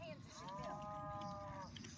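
A cow moos in the 1-2-Switch milking mini game on Nintendo Switch, one drawn-out rising then falling bovine call heard clearly over a steady background hum.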